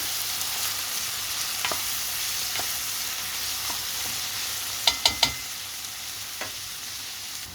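Beef fries in a pan under a constant bright sizzle, with occasional soft stirring taps and a quick cluster of three sharp utensil clicks against the pan near the end. No voices.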